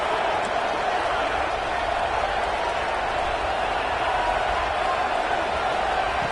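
Home stadium crowd in a football video game, a dense, constant roar of cheering that stays steady and fairly loud throughout, heard as a wash of distant voices without any clear breaks.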